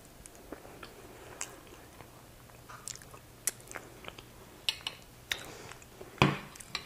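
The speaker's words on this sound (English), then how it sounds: "I'm actually going to dig in and try it." A vegan holiday pumpkin cheesecake is eaten, with soft scattered bites, faint chewing and occasional light clinks of a fork or plate, close and quiet.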